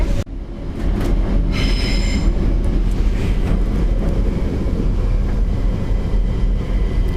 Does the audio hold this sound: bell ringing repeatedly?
no